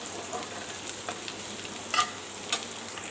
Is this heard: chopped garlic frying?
yes